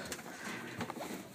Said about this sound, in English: so there's most of my birds just on the roof, just coming back from a flight